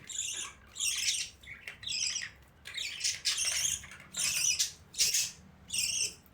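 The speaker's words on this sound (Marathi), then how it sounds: "हे चाललं आहे आपल्या पाखरांचं सकाळचं जेवण हे पाकसं येत आहेत सगळेजण" Many birds squawk loudly in repeated shrill bursts, about a dozen harsh calls in quick succession, close and crowded together.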